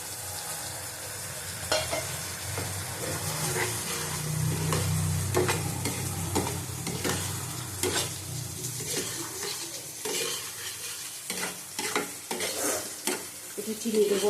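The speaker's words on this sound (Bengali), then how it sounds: "হালকা জল দিয়ে দেবো এর মধ্যে, বেশি জল দেবো না, আমার সব সবজি সিদ্ধ হয়ে গেছে।" Vegetable curry stirred in a pan after mustard powder and a little water go in over boiled vegetables, a steady wet scraping and sizzle with repeated clicks of the spoon against the pan throughout, close and alone.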